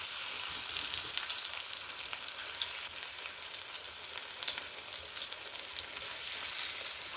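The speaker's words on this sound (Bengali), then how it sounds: "এবার বড়াগুলোকে একটু ভেজে নিচ্ছি।" Drumstick leaf fritters fry in hot white oil in a village kitchen, giving a constant crackling sizzle with small pops that flicker throughout, close and moderately quiet, with no talk.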